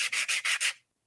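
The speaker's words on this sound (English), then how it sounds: "That's either Mike whipping out the eraser because he made a mistake on his notes, or Scott was sanding away" Eraser rubbing on paper or sanding, five quick rhythmic scratchy strokes in close succession, close and fairly loud, then silence.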